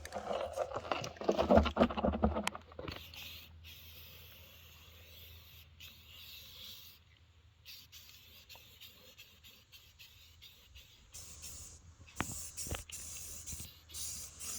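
Satin aerosol paint sprays onto a Jeep Cherokee part in short hissing bursts, loudest near the start and again toward the end, with quieter handling noises between.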